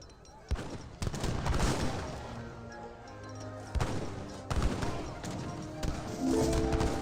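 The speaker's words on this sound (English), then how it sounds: "There's the heavy cannons." Heavy cannons firing in a battle in the strategy game Age of Empires 3, a series of sharp booming blasts at irregular intervals over dense battle noise, with a voice talking throughout.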